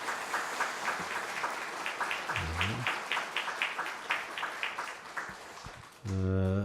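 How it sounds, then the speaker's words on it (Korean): Congregation at a church ordination and anniversary service breaks into sustained applause, dense and steady clapping filling the hall for several seconds, with a low musical tone entering near the end. "우리 서약했는데 한 박수 한번 좀 보내주시기 바랍니다"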